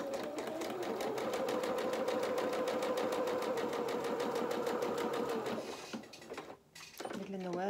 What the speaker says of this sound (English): we're going to neaten this edge here by doing a zigzag stitch